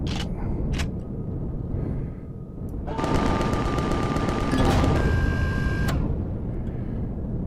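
Gunfire in the space game Empyrion Reforged Eden as a hostile ship is shot down: a steady burst of rapid weapon fire with whining electronic tones, moderately loud, followed by softer game ambience.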